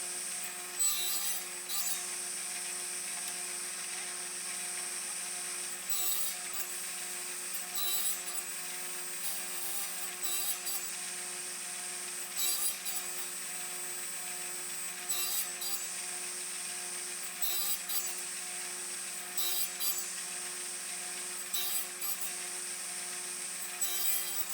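A hand saw cuts box joints in a wooden board, the rasping strokes coming in short regular bursts over steady background noise, close and fairly loud with no talking.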